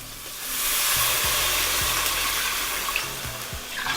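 Water poured into a hot pot of toasted black cardamom, cloves and spices for chicken kebabs bursts into a loud hissing rush of steam and sizzle, with a few low knocks underneath as it settles.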